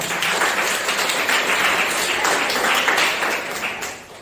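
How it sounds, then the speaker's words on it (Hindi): A church congregation at a Sunday morning service in Lucknow applauds loudly. The clapping is a dense, steady wash that holds for about four seconds, then eases off at the end. "हमारे बीच में आज एक जोरदार ताली बजाइए परमेश्वर के लिए।"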